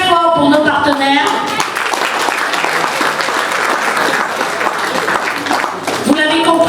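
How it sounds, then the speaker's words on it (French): Loud audience applause at an inauguration ceremony for a new office in Paris, a crowd clapping steadily for several seconds, with a voice speaking briefly before and after the clapping. "Je vous prie d'applaudir très fort pour nos partenaires."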